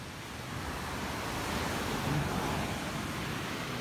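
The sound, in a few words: sea waves on the shore at Baler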